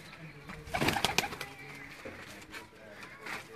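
Sialkot-breed pigeons give soft, low cooing calls close by, with a brief fluttering burst, while someone talks nearby.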